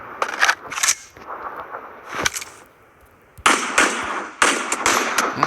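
Rapid bursts of gunfire from PUBG crack out in clusters, loud and sharp, with brief lulls between volleys and a busy synthetic background.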